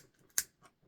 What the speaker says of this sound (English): Cutting any extra thread.